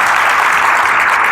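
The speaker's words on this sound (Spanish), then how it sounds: "queremos recibirlo el día de hoy con un fuerte aplauso" Brief, loud burst of dense applause from a gathered audience welcoming a speaker at a religious event in Monterrey, Mexico, continuous clapping with no pauses.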